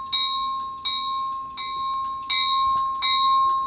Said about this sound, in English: I changed the bell because it's too fast.